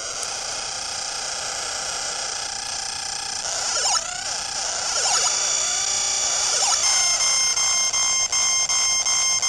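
An overheat warning alarm from the Excitebike 3DS video game rings as a bright, steady, multi-tone electronic beeping that runs through the whole stretch, with sweeping game sound effects layered over it partway through.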